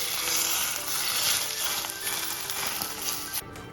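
Hot mustard oil poured over mutton pieces in a pot, giving a loud, steady sizzle that crackles continuously for several seconds before cutting out near the end; no voices.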